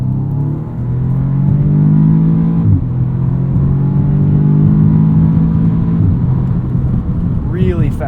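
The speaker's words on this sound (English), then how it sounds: "under braking, it'll keep the revs up by downshifting a little bit." A 2016 Audi S3 sedan's engine drones loudly from inside the cabin, with a quick rev blip as the DSG gearbox downshifts under braking before the engine settles back into a steady hum.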